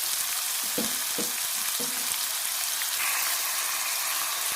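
Steady oily sizzling of onions frying in a pan for kara kuzhi paniyaram, with a few soft stirring taps early on and the hiss rising slightly near the end.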